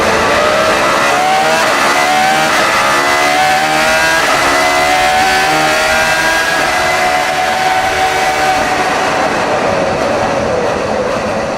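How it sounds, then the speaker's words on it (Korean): A hypercar with an engine sound like a current Formula 1 car drives past with a loud, steady high-pitched engine whine over road roar, rising and falling in pitch across about eleven seconds; no talking. "근데 이 차가 이제 주행하는 사운드를 들어보면은 현 F1 사운드가 납니다."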